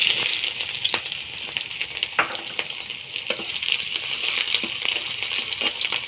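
Chopped onion and garlic sizzle loudly in oil with dried chilli and cumin, a dense continuous frying hiss broken by crackles and spatula scrapes as they are stirred, with no talking.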